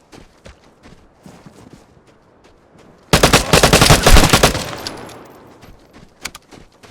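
AUR-A1 rifle in the game Vigor fired in a dense, loud burst of rapid shots that rings out and fades, preceded by scattered footsteps and softer sounds, with isolated shots afterward.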